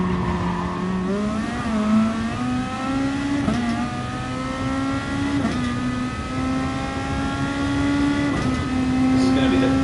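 Gr.2 race car engines in Gran Turismo Sport at Fuji roar steadily and loudly, pitch climbing through gears with brief shifts, while someone talks over the engine noise throughout.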